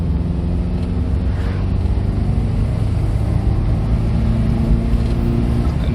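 A 1987 Austin Metro 1.0 City with its 45-horsepower engine drones steadily while driving, a close, continuous low hum with faint wind buffeting and no voices.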